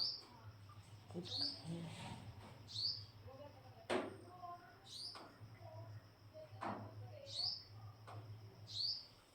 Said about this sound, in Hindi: चिड़िया फंस गई।